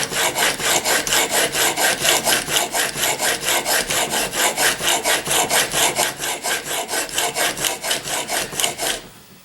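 A chisel is rubbed back and forth on a sharpening stone in a steady, fast rhythm of about three gritty rasping strokes per second, loud and close, continuing for roughly nine seconds before stopping.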